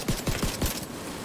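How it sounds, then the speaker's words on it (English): A quick burst of four or five rapid gunshots in a video game, close and sharp, fired in a tight rhythm and then ending with a brief ringing tail. "Damn, being shot from the left."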